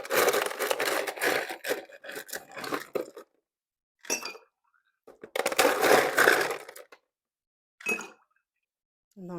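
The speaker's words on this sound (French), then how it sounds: "Donc, là, j'ai mis les glaçons." Ice cubes clink and clatter into cups while bubble tea is being made, coming in several short bursts of rattling separated by quiet gaps.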